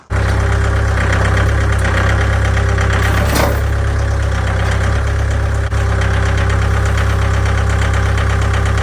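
A forklift engine runs loud and close while lifting a rusty truck part, a steady heavy rumble with a knocking undertone and one brief clank, no talking.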